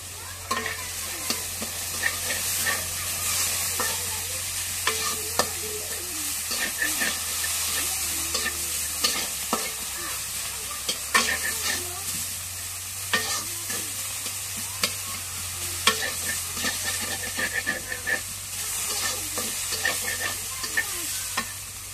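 Chili and onion frying in oil in a pan, with steady sizzling and repeated scraping stirs throughout, close and moderately loud, alongside a light background hum.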